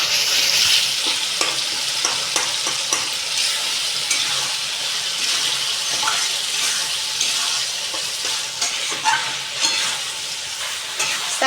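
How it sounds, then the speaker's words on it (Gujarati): Tomato puree stirred into sev tamatar curry in a hot pan, with steady sizzling and frying crackle throughout and repeated scraping strokes of a spoon, close and fairly loud with no talk. "એડ કરીને હલાવવાનું છે."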